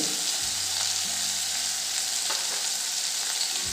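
Bitter gourd bhaji sizzles loudly in a pan with chili powder, coriander-cumin powder and turmeric, a steady close frying hiss that carries on without any talking.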